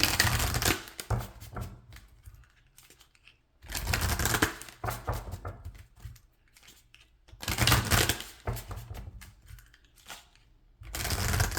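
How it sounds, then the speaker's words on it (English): Tarot cards shuffled by hand in repeated bursts of riffling and sliding, four loud rounds separated by quieter gaps, close up with no talking. "A lot of shuffling."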